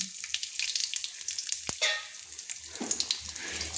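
Whole spices crackle in hot oil: cardamom, cumin seeds and dried red chillies. A continuous bright sizzle runs close and loud, with one sharp pop near the middle and faint stirring.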